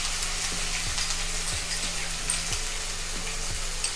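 Onion, garlic and ginger paste frying in hot oil for a mustard hilsa dish makes a steady, moderate sizzle, with soft repeated utensil taps and stirring scrapes underneath and no speech.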